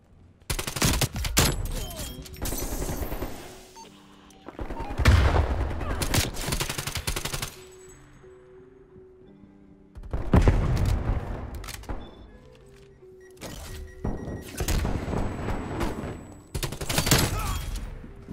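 Bursts of shotgun and rapid gunfire erupt in Black Ops Cold War multiplayer, loud clustered volleys separated by short quiet gaps across the stretch.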